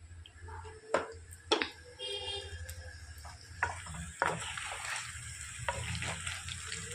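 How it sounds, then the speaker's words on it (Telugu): Tender young vegetables fry in a pan with a low, continuous sizzle, broken by occasional sharp clicks and utensil knocks; the sound stays close and moderate throughout, with no speech. "ఓన్లీ 10 మినిట్స్లోనే ఫ్రై అయిపోతుంది ఫ్రెండ్స్"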